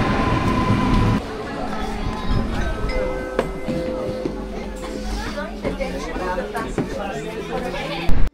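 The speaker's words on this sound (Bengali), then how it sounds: "আমাদের কাটোয়া লোকাল অলরেডি ঢুকে গেছে।" A Katwa local train stands at a busy station platform, its low rumble and clanks under loud crowd chatter and nearby talking voices.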